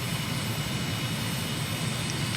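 A small plane's engine drones steadily and loudly during a low pass along the runway at Scotland Key Airport in the Abacos, Bahamas, in Microsoft Flight Simulator, with no break or change throughout.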